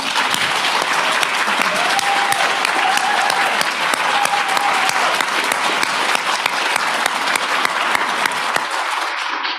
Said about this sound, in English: give all women of Algonquin, women who dare, women who care, a big, loud round of applause